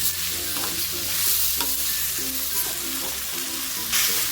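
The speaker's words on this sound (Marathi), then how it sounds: "हे टोमॅटो पण टाकून घेऊ त्याच्यामध्ये हा लसूण पण सगळा टाकून घ्यायचा आहे छान परतवून घेऊया आपण" Onion, tomato and garlic sautéing in a pan for a Maharashtrian katwada rassa, a dense, loud sizzle with stirring scrapes and clinks of a spatula against the pan throughout, no speech.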